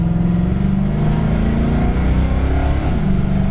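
A 1966 Ford Fairlane XL engine, freshly tuned with new spark plugs and an adjusted carburetor, runs loud and close with a steady, throbbing idle and a slight rise in revs, with no voices over it.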